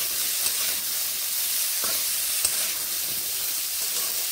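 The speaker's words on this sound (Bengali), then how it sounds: "নুন ও হলুদ গুঁড়োগুলো ভালোভাবে মিশিয়ে এইভাবে নেড়ে নিচ্ছি" Cauliflower with salt and turmeric is stirred in a hot pan, a soft continuous hiss and sizzle close by, with faint occasional scrapes of the spoon and no voices.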